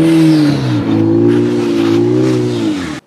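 A car engine revs hard and loud throughout an illegal street drifting session, a steady roaring drone with rising and falling pitch, cutting off abruptly at the end.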